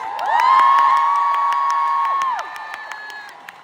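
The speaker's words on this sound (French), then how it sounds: "Vous pouvez applaudir très très fort mes musiciens, s'il vous plaît." A concert crowd at a show at the AB cheers and screams for the musicians in a loud, shrill swell. The noise peaks early, holds, then drops off, with scattered claps continuing underneath.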